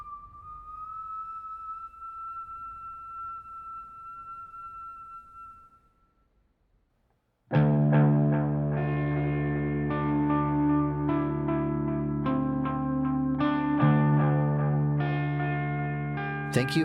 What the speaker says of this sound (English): as the tinnitus hum and whine in the kid's ears subsides, it resolves into the final parting strain of the strange song the gambler is whistling outside